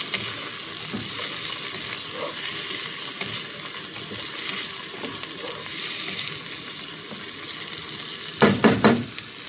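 Green peas fry in a pan for matar pulao, a steady moderate sizzle with soft stirring touches, ending in a few sharper clattering knocks; no one speaks.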